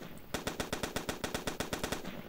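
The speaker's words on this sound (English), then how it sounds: "Holy shit, those gunfire effects" Rapid automatic gunfire from the video game The Rotten rattles out as one close, loud burst of about fourteen evenly spaced shots, with no talk.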